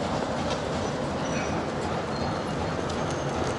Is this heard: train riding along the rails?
yes